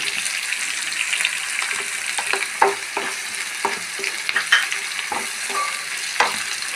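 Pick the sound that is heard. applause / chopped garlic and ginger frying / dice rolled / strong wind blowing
chopped garlic and ginger frying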